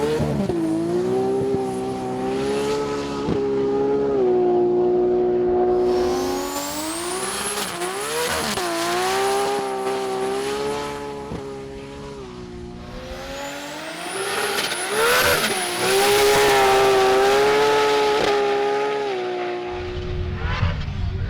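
A Nissan GT-R on an old set of radial tyres launches down a runway at a street-car drag event, engine screaming upward through gears with whining pitch sweeps, loud and close, then fading and returning as another hard run builds.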